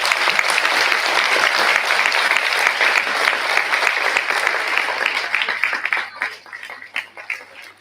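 A stage audience breaks into loud, dense applause at an NDMC World Environment Day and Menstrual Hygiene Day event, clapping steadily before tapering off into scattered claps at the end.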